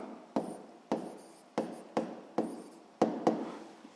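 Pen or chalk strokes, heard as a steady series of short, sharp taps and scratches, evenly spaced like handwriting, close and fairly quiet with no voices.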